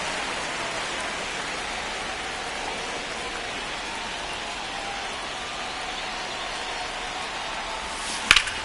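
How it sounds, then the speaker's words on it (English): Steady heavy rain pours over a ballpark in the MLB The Show 25 baseball video game, a dense constant hiss throughout, broken by one sharp crack near the end. "This rain is not letting up."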